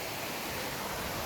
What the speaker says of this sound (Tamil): அங்கே தான் அப்படி தான் அருவி போயிட்டுருக்கு